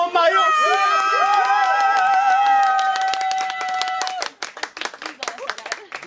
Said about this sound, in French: On applaudit jusqu'à son arrivée.